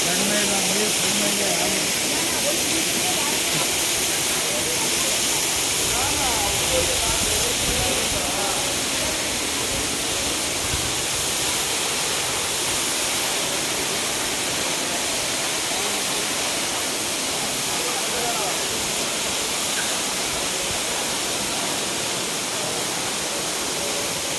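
Waterfall dropping from a great height beside caves on the road to Cherrapunji, giving a steady, broad rushing roar that stays even and close for the whole stretch.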